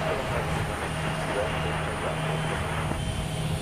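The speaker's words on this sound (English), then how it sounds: "Takeoff." An airliner takes off from Boston's Logan Airport, giving a steady, broad engine roar that holds at an even loudness throughout, heard from a distance.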